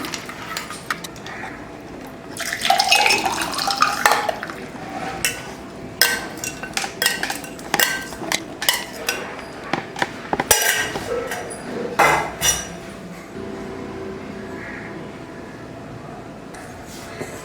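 Sabja fruit juice with ice cubes is transferred into a glass, with a pouring splash followed by repeated sharp clinks and knocks of ice, spoon and glass, loud and close.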